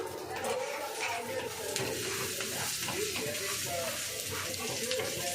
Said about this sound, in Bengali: একটু তেল দিয়ে ধরে ভেজে পরোটার মতো।